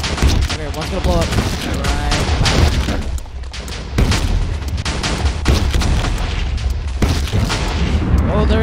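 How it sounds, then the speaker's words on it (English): A Minecraft Titans mod explosion booms loudly and continuously, with dense rumbling blasts and crackling bursts layered over a steady low roar, while voices talk excitedly over the chaos. "Okay, one's gonna blow up."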